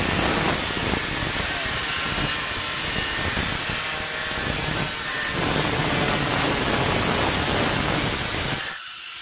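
Galvanized iron roofing sheet being cut for a side gutter, a continuous harsh, loud grinding rasp that runs without a break and stops abruptly at the end.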